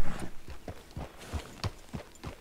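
A horse in Red Dead Redemption plods along in clear clip-clop hoofbeats, about five steady, evenly spaced steps, close and loud with no talk.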